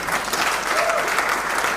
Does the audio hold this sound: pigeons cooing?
no